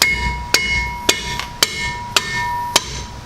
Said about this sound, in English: Necessary part of every project. Hammer.